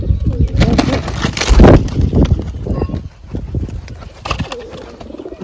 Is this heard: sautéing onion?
no